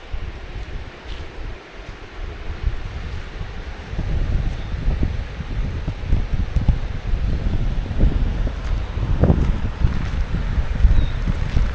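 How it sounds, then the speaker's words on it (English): Strong wind roars across a beach on Caladesi Island, a steady, loud rumble of gusts buffeting the microphone, with faint waves underneath and no talking. "It's really windy out here."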